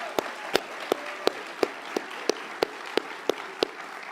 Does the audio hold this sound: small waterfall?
no